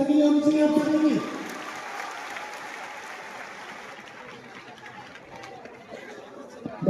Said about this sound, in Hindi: एक जोरों ताली लगी होनी चाहिए आप सभी की